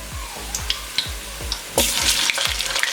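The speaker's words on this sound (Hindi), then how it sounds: "अब इसी ऑयल में चिकन ऐड करेंगे। हाफ केजी हमने चिकन ले लिया।" Half a kilo of chicken goes into hot oil with onions, bringing a dense sizzle that swells loudly partway through, punctuated by repeated low thumps and clinks of a utensil against the pan.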